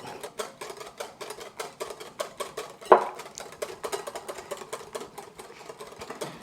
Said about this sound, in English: just continue whisking until you start seeing it thicken up